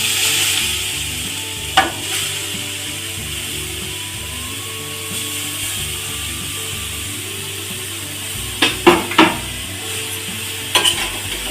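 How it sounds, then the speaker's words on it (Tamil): Carrots sautéing in ghee in a pan for carrot halwa: a steady close sizzle punctuated by several sharp spoon knocks and scrapes as they are stirred. "நல்லா வதக்கி விட்டுக்கலாம்"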